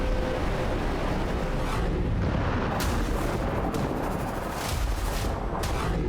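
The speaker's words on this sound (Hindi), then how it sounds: "राफा के बाहरी इलाकों पर हवाई हमले हो रहे हैं।" Air strikes hit the outskirts of Rafah, with dull booms and sharp blasts rumbling through a constant heavy background roar, several distinct impacts spaced unevenly at a distance.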